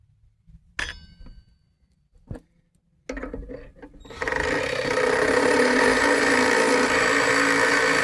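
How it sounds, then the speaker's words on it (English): A power drill fitted with a large bit works on go-kart parts from scrap: a few sharp knocks and clinks, a short burst of whirring, then a loud continuous drilling whine that runs steadily to the end. "I'm gonna try the biggest drill bit I have."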